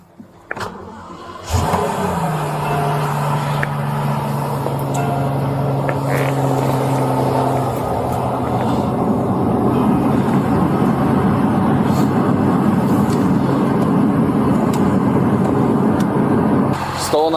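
A stolen Rolls Royce Cullinan V12 SUV fires up with a brief starter crank, then settles into a loud, steady idle rumble that holds for the rest of the stretch, with faint background noise.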